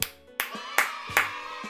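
Four sharp pats of hands pressed together to test the stickiness of a slightly viscous skincare toner, evenly spaced and close, each a crisp clap-like smack with a faint tacky release.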